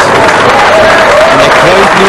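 A crowd at a world 9-ball pool championship quarter-final bursts into loud, sustained applause after a shot, with a commentator's voice running over the clapping.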